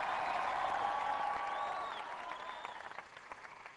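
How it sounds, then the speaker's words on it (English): Crowd applause at a Barack Obama rally for supporters in Las Vegas: dense, steady clapping from a large audience that gradually thins and fades toward the end. "Please give them a big round of applause."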